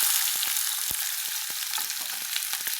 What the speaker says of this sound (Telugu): ఇదిగోండి కళాయి పెట్టాను, ఆయిల్ వేసాను. ఇందులో ఉల్లిపాయ ముక్కలు వేద్దాం.